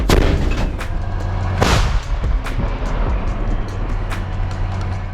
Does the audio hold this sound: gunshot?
yes